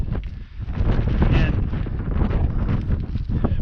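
Strong gusting wind buffeting the microphone on a mountain summit climb at about 12,800 feet on Mt Princeton's east slopes, a loud continuous roar with surges, alone without talk.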